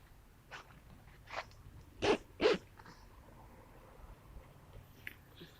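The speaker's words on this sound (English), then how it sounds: "I don't know what you do for rusty zippers." A rusty tent zipper is tugged in several short, scratchy pulls, the middle two louder and harsher, with quiet pauses between, close by in a quiet setting.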